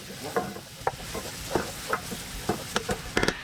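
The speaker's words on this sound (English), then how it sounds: "Okay, our oil is starting to get hot. In with our onions and our garlic and scallion. Now we're going to stir it." Onions, garlic and scallion sizzle in hot oil with a steady crackling hiss, while a spoon stirs the pan in a series of scraping clacks and taps, close by and without talking.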